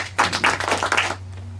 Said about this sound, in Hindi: एक बार जोरदार ताली हो जाए उनके लिए भी